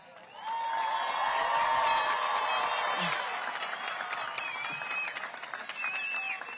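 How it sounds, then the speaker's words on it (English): Audience at a high school graduation ceremony bursting into sustained applause that swells quickly and stays loud, with scattered cheers and whoops mixed into the clapping. "please give her a round of applause"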